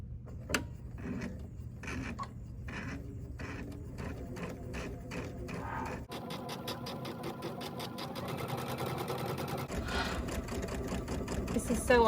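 A sewing machine runs a quarter-inch seam on a Kimberbell mini pillow, a steady mechanical stitching whir that starts and stops in short bursts, close and clear.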